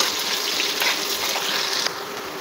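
Oil pours into a hot pan with onions for taro leaf bhorta, giving a loud steady gushing sizzle that cuts off sharply near the end, with no talking.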